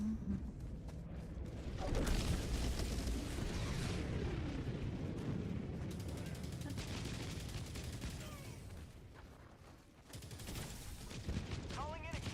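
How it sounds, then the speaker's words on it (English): An air support strike in the Helldivers 2 video game: a sustained barrage of heavy booming explosions and gunfire, loud and dense for several seconds, fading briefly before another burst erupts. "Requesting air support."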